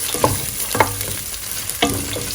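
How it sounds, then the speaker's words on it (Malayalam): Coconut pieces, ginger and garlic frying in oil for beef pepper, a loud close sizzle broken by three quick stirring scrapes. "തേങ്ങാക്കൊത്ത് കൂടെ ഇട്ടതിന് ശേഷം ഇതൊന്ന് നന്നായിട്ട് ഫ്രൈ ചെയ്തെടുക്കാം."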